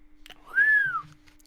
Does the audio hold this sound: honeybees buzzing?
no